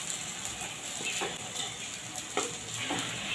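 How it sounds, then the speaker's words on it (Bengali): Raw banana, potato and papaya fritters fry in hot oil, giving a steady close sizzle with a few light scraping clicks as they are turned. "এবার আর পিঠটা উল্টে আমি ভেজে নেব"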